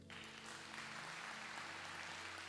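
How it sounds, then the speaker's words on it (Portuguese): Audience applause at a church gathering, a steady wash of clapping that holds evenly for the whole stretch, with a low sustained hum beneath it. "Uma salva de palmas para Jesus."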